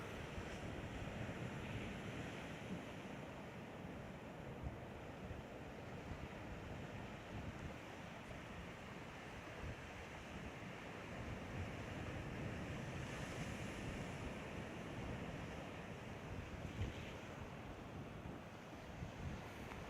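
Ocean waves surge and splash on a rocky shore at Kona, Hawaii, with gusty wind buffeting the microphone, a continuous roaring wash with no voices.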